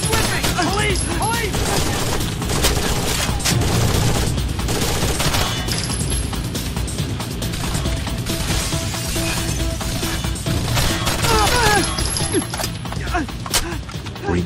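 Sustained automatic gunfire rattles through a casino security area in Rainbow Six: Vegas, with rapid, continuous bursts and clattering mechanical detail that run for the whole stretch as game voices speak over the shooting.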